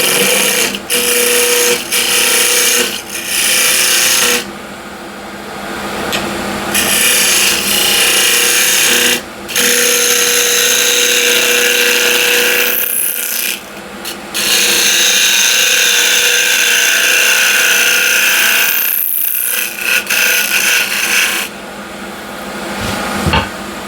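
An old oak window sill spins on a woodturning lathe while a tool cuts its corners, making a loud, close, steady scraping and whirring with several short breaks between passes.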